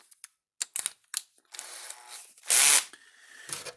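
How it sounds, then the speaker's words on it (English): A power drill fitted with a socket adapter and 3/8-drive socket loosens a nut: a few sharp clicks and handling taps, then a short, loud whirring burst of the drill spinning, close up. "and then I'm going to put it in my drill"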